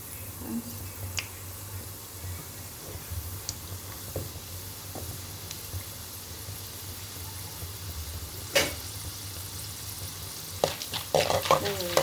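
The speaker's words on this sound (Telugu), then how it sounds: "ఆయిల్ ఇలా హీట్ ఎక్కిన తర్వాత ఇదిగోండి కొంచెం పోపులను శనగపప్పు వేసుకున్నాను" Chana dal and tempering seeds fry in hot oil, a quiet continuous sizzle with scattered sharp pops and crackles, louder bursts toward the end.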